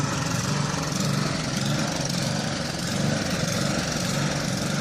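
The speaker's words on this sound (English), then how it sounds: "And here we go, back with the snowblower one more time." A snowblower runs steadily nearby as it clears snow beside a truck, its small engine giving a continuous, even drone with no pauses.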